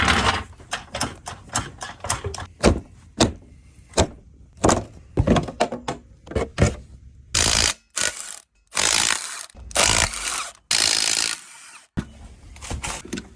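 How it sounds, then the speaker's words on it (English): Mechanical work pulling the power steering box off a Polaris Sportsman 550 ATV: a dense run of sharp metallic clicks, ratcheting and tool knocks, close and loud, followed by longer bursts of broadband rasping or rattling near the end. "so let's go ahead and remove that power steering box."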